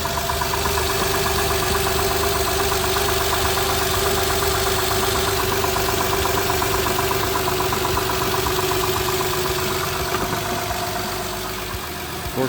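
A 2011 Honda Pilot engine idles steadily and alone, a close, even mid-range hum with a faint ticking texture that holds level for about twelve seconds before easing slightly at the end.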